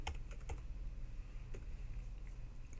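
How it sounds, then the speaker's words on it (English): Quiet typing on a computer keyboard: a few soft, irregular key taps and clicks over a low background hum, with no talking. "And let's type the first one in."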